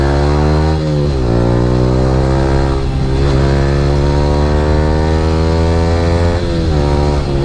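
Yamaha R15 V3 motorcycle fitted with an Akrapovic R9 exhaust, ridden in the morning: a loud, steady engine drone with rising and falling revs and gear shifts, the exhaust note dominant and unbroken by talk.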